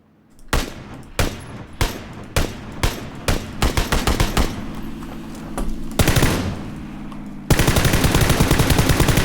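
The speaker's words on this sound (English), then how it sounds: "he took an SKS shot and some M4 shots, and he was just shrugging it off" SKS and M4 gunfire in PUBG, first spaced single loud shots, then quickening bursts, ending in a sustained rapid automatic stream.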